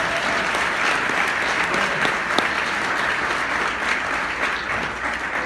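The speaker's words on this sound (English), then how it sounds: "Give Asia a big round of applause." Steady applause from a large audience at a company presentation, a dense sustained clapping wash that holds evenly throughout without voices.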